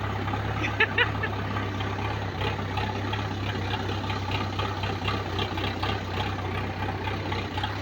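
A tractor pulling a sprayer for weeding a vegetable garden runs with a steady, rumbling low drone, close by, with faint voices and small clanks over the engine.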